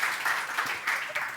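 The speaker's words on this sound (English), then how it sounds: "A little round of applause." An audience at a fashion panel talk in Berlin gives a short burst of applause, a dense wash of clapping from a crowd that fills the brief moment.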